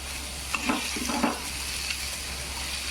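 Tomato dropped into onions frying in a pan, with a few soft stirring scrapes and a faint sizzle over steady low background hum.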